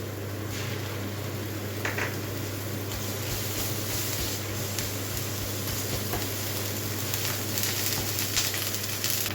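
Chicken masala with ginger sautéing in a pan: a dense, even hiss of frying oil runs throughout at close range, with faint occasional stirring ticks underneath and no talking.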